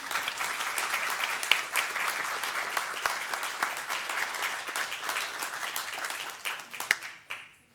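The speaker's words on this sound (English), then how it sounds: "Let's give them a round of applause also." Steady round of applause at a Lake County school board meeting honoring the Eustis Lady Panthers girls' team, dense even clapping from a room of people that thins out and stops near the end.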